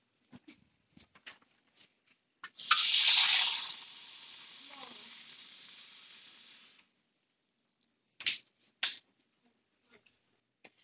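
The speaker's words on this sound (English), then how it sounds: "All right, so now we're going to add 350 grams of water." Water pours steadily from a tap or jug into a bowl holding sourdough starter mix, making a bright splashing rush that settles into a gentle trickle for a few seconds, framed by clicks and clatter of utensils.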